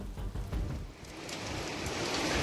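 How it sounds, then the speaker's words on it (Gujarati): Heavy early-morning rain falls over Surat, Gujarat, during monsoon weather: a brief, dense, steady wash of downpour pattering on surfaces nearby, with no voices. "ધોધમાર વરસાદ પડ્યો"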